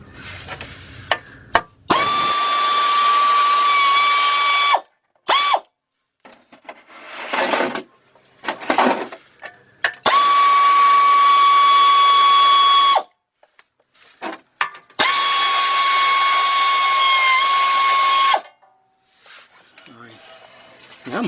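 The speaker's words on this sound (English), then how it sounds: "Let's get those bolts out of there." A power tool backs out 8mm bolts on a BMW 328i during fuel pump and filter work, sounding as three long, steady, high whirring runs of a few seconds each, split by short clicks, ratchet rattles and handling noises.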